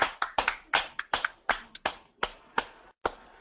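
A handful of sparse, crisp handclaps welcoming a guest presenter at an entrepreneur talk, arriving in short uneven bursts with clear gaps between them, close and fairly light.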